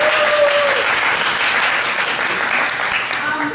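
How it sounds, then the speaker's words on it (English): An audience at a school chamber orchestra event applauds honor orchestra students, a full, steady burst of clapping from many people in the room that tapers slightly toward the end. "I'd like to give her a round of applause."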